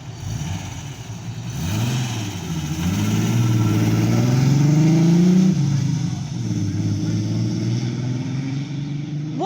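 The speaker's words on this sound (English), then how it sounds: "We have one of the TVR Chimeras leaving the show." A TVR Chimera sports car pulls away from a classic car meet at a country inn, its engine rising and falling through gear changes as it revs loudly nearby, then fading slightly as it leaves.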